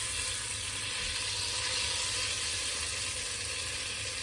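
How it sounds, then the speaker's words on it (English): Butter melting in a pan for pink Rice Krispie treats gives off a steady, soft sizzle, an even hiss that continues alone without a break. "We're melting the butter."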